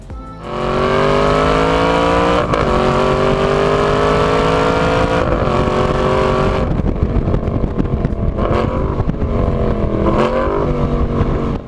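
A 2015 Aston Martin Vantage GT V8 engine barks to life and revs hard several times, loud and close, its pitch rising and falling with each throttle blip.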